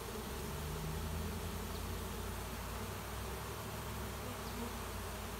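Dense, steady buzzing of a honey bee swarm entering a hive during late season, a continuous close drone of many wings without pause, no voices over it.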